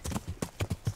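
Rhythmic clip-clop of a horse's hooves during riding in Kingdom Come: Deliverance, several close, evenly spaced thuds in a brief burst.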